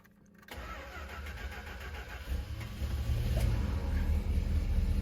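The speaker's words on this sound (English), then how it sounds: "after a little cranking, no pumps, she fired right back up" A 1968 Chrysler Newport with carburetor fuel-flow trouble cranks briefly, then fires and settles into a rising, steady idle that grows louder toward the end.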